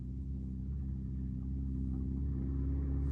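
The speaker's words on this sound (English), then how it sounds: "That's the car." Car passing on a nearby road, a low rumbling engine drone that holds steady and slightly swells over a few seconds, fairly faint and heard alone without talk.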